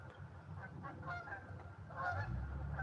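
Geese honking near the base of Penn Creek behind Bloomsburg College, with repeated calls and a louder burst toward the end over outdoor background noise.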